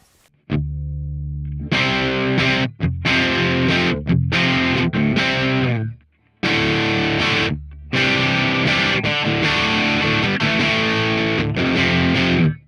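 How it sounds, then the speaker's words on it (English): Electric guitar through a Fender Mustang Micro Plus headphone amp on a lightly overdriven low-gain setting with no reverb, playing a riff of sustained chords and quick stabs with brief pauses, loud and close. "It's a very cool low gain tone, man."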